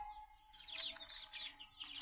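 Young chicks of tiger and farm chicken breeds, about 15 to 20 days old, chirp and cheep in a busy, overlapping chorus close by, with no talking.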